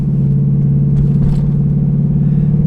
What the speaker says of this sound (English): Can't get sick of the V8 sound, man.